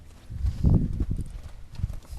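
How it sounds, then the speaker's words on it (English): A gaited spotted horse clip-clops along, its hooves landing close and fairly loud in an even, rolling rhythm of soft thuds with no talking. "He's a gaited horse. And you watch him gait."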